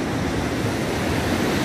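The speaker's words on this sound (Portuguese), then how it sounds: "Aqui é a praia do Guarujá. Fica na Pitangueira, seguindo para as Astúrias." Ocean surf at Pitangueiras beach in Guarujá, heard as a steady, dense roar of breaking waves with wind rushing across the microphone, loud and continuous with no voices.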